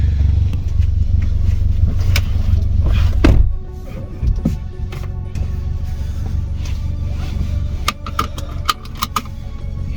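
Audi S1 with a freshly replaced clutch being driven up through the gears, a loud close engine drone that drops off sharply partway through, followed by quieter running with scattered clicks and rattles.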